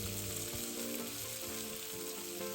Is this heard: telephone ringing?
no